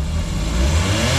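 The 660cc non-turbo, 59-horsepower engine of a lifted Every wagon revs up, heard close and loud as a steady, dense mechanical roar throughout, with no talk over it.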